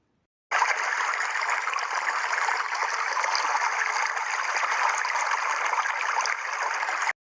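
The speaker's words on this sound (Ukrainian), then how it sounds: "Це дзвінкий струмок." A babbling brook of flowing stream water, a steady, even rush of trickling water that starts abruptly and runs alone at moderate loudness for several seconds before cutting off.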